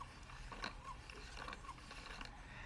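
Small mechanical automata with cams and followers moving up, down and around, giving soft clicking, ratcheting gear sounds at close range, faint and quiet with a few light rhythmic ticks.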